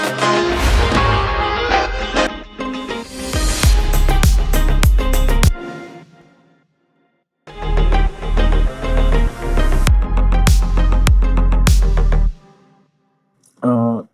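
Basic house track outro with a thumping bass kick and light percussion, full and loud, cutting out into brief silence before the beat returns and drops away again near the end.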